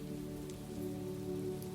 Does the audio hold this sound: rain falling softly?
yes